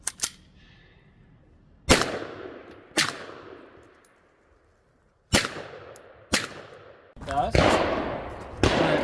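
Sharp, loud shots from a VP70 pistol ring out one at a time at irregular intervals, about five or six reports, each with a ringing echoing tail, some spaced seconds apart and a closer pair near the end.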